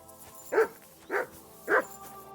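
A dog in the medieval video game Kingdom Come: Deliverance II barks three times at an even pace, and each bark is loud and close against a quiet ambient background.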